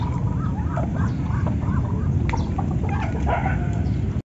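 Ducks quack repeatedly in short bursts against a steady low background rumble, fairly close, with no talking.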